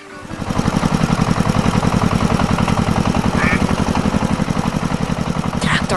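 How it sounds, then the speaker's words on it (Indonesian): A red tractor engine in an animated farm scene chugs steadily with a close, loud, even pulsing rhythm that holds for the whole stretch, with no voices over it. "Traktor merah mulai bergerak,"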